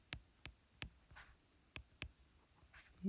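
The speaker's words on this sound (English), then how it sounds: "So let's write that down." Marker strokes on a board during a maths lesson make a handful of faint, sharp taps and short scratches, irregularly spaced in a quiet room.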